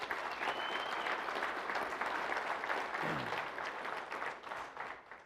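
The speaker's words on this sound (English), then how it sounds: "Can we get a big round of applause for those people, please?" A large crowd at a high school coaches' association closing session applauds the event staff in a steady, dense wash of clapping that holds for several seconds.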